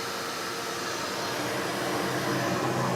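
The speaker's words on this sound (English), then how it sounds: "I got a vacuum cleaner hooked up to the Tornado cyclone right there." A vacuum cleaner hooked to a Tornado cyclone separator on a sandblasting setup roars steadily, a loud, even broadband rush that swells slightly toward the end.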